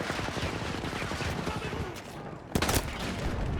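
Rapid automatic gunfire in the shooter game Battlefield 2042, a sustained loud fusillade of overlapping shots with a brief lull and then a sharper close burst near the end.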